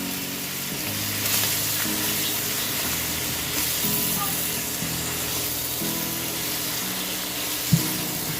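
Beef sizzles steadily in a hot pan as bulgogi sauce goes in, a continuous frying hiss with low background tones and one sharp knock near the end.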